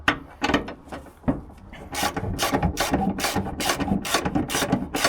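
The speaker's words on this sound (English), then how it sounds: "Use a ratchet." A ratchet wrench clicks in quick bursts of rapid, close-up ratcheting, pausing briefly between strokes before speeding into a steady rhythm.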